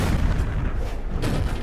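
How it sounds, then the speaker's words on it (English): An explosion in an Iron Man 2 video game cutscene rumbles as a loud, dense low-frequency boom that fills the whole moment, with a second burst near the end and no voices over it. "That explosion was way too big."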